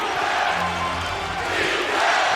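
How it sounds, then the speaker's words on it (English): An NBA arena crowd in Toronto, during a Raptors game against the Thunder, chants for defense. The roar is loud and continuous, with a rhythmic chanting undertone throughout. "listen to the crowd asking for defense"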